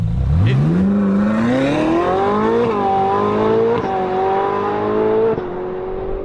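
Ferrari 458 engine, rebuilt after a crash, revving loudly and close during a shakedown, pitch climbing steeply then holding high with a few shifts and small dips, steady and continuous with no talk.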